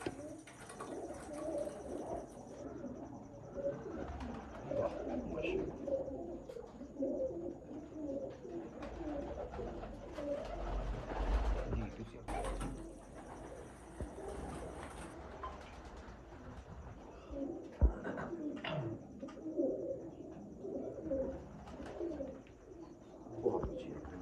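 Red-eyed breeder pigeons coo steadily through a loft, soft rolling calls overlapping at close range, with a few chirps and occasional background voices.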